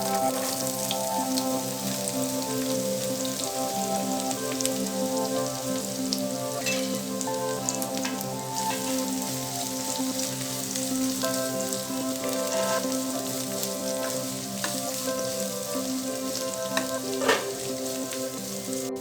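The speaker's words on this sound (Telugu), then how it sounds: "తాలింపు వేసిన తర్వాత ఇందులో కాకరకాయ ముక్కలు వేసుకోవాలి." Pieces of bitter gourd fry in tempering oil for a curry leaf bitter gourd fry. A close, even sizzle with scattered crackles continues for the whole stretch over a faint steady hum, with no voices.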